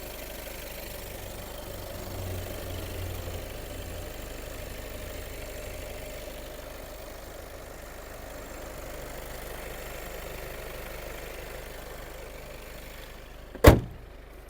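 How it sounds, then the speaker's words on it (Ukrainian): A 2018 Volkswagen Passat B8 4Motion engine idles quietly and steadily for a long stretch, a low even hum, ending with a sharp thump like a door closing. "Ну, працює двигунчик дуже тихо."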